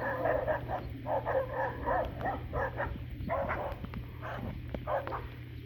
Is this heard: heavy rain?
no